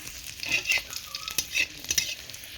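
Dry red chillies crackle in oil left over from frying fish, with uneven sizzling bursts and the clink of a spatula stirring the pan, close by and moderately loud.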